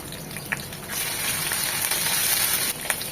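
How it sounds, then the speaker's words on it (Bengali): Ginger garlic paste frying in a pan, a steady close hiss and sizzle throughout with a few faint clicks of stirring, rising slightly partway through. "কুচু করে 1 চামচ আদা রসুনের পেস্ট, এটাকে 1 মিনিট ভেজে নেবো যেন আদার ঝাঁঝালো গন্ধটা চলে যায়"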